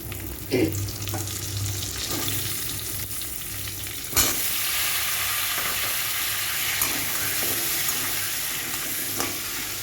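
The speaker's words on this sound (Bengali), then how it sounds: "আলুগুলো আমি একটু ভেজে নেবো দু মিনিট ধরে" Potato pieces frying in hot oil with whole spices in a pan for a Bengali prawn curry, a loud continuous sizzle with scraping stirs and a sharp knock partway through, close by.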